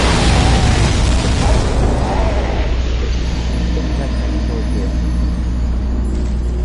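An explosive barrel in the video game Dark Souls 2 goes off as a loud, deep boom with a heavy rumble that trails away over several seconds.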